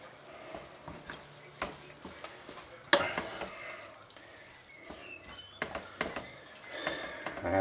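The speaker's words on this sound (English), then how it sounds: "And you can stir it and see no white lumps." A spoon stirs homemade Chinese curry sauce around a pan, scraping at the corners with soft, irregular scrapes and clicks. A quiet sizzle runs underneath, and a louder clatter comes near the three-second mark.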